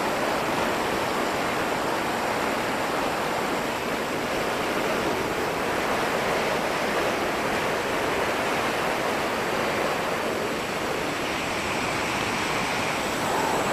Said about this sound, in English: It was a little bit breezy by this time in the morning.